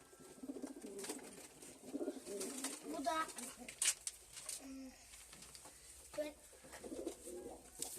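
Pigeons, including Turkish breeds such as the sakar, coo softly and repeatedly nearby in a coop, their low throaty calls mixing with quiet rustling while a person speaks briefly.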